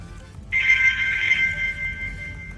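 A KW19 Max smartwatch rings with an incoming call, a steady electronic ringtone starting after a short pause and holding on continuously, fairly close, over a low background hum.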